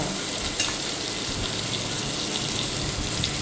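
Carrot, potato, cloves, cardamom and bay leaves fry in a pan with a steady, loud sizzle, a brief clink near the start and faint stirring, no voices.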